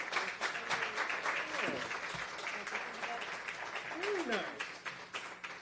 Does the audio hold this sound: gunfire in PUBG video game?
no